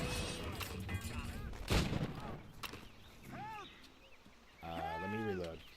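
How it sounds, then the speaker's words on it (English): A pistol shot in Assassin's Creed Rogue, one sharp crack amid game ambience, with voices and animal-like bleats around it. "Now that we finally got these pistols, I guess we could just kill some British soldiers with them."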